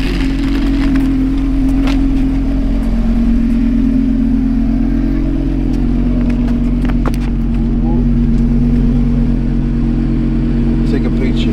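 A Cadillac CTS-V and a BMW 340i line up for a $500-pot drag race, their engines a loud, close, steady low rumble that drones on without a clear launch or rev sweep.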